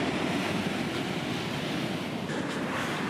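Heavy surf pounds a shoreline break, a steady, close, roaring wash of breaking waves with wind buffeting the microphone throughout and no talking.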